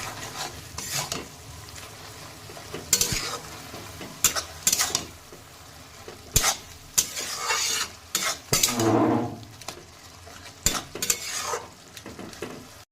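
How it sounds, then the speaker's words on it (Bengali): Spoon stirring spinach with prawns, salt and turmeric in a frying pan, giving repeated scraping clatters in irregular bursts over a soft sizzle, close and fairly loud, with no talk. "এবার নুন হলুদটা আমি ভালোভাবে মিশিয়ে নেব।"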